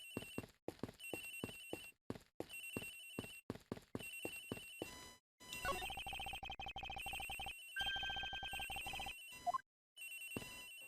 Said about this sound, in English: Agent Hicks' phone! It's ringing from somewhere, sir!